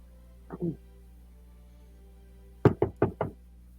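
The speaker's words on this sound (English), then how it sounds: "you guys hear a knock at the door" Four sharp knocks rap on a door in quick succession, preceded by a softer double tap, in an otherwise quiet room.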